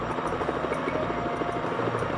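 Helicopter in the Mission Impossible video game, a continuous loud rotor chop with a steady rhythmic beat, up close and alone.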